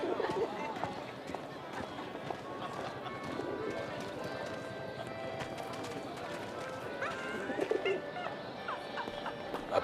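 Pigeons coo amid a busy Parisian street scene in the war-era adventure game 11-11: Memories Retold, with bird calls and clip-clopping hooves under steady city bustle and talking voices.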